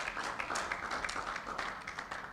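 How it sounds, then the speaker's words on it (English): An audience at a press conference for the Nigeria Prize for Science applauds the chairman, a faint, dense patter of many hands clapping that continues throughout. "Can we please applaud the Chairman for his presentation?"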